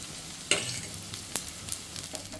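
Lentil and rice batter fritters frying one at a time in a pan, a soft continuous sizzle broken by a few sharp scrapes and spoon taps.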